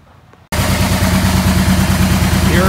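The engine of a 1986 Yamaha Venture motorcycle starts up abruptly and settles into a steady, loud, close idle with an even throbbing pulse.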